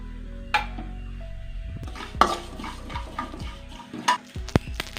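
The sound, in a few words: stirring and dry frying whole spices in a pan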